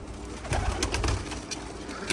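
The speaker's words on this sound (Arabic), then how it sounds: "اول ما جيت لقيت هذا الطير بسطح" Soft, repeated bird cooing close by, a few low calls over a steady background hiss and faint rustling.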